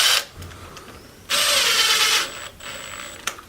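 Power driver tightening bolts to secure the speed control in a Traxxas Rustler 4x4 RC car being converted from brushed to brushless: two short whirring bursts separated by a pause, close and fairly loud, ending with a small click.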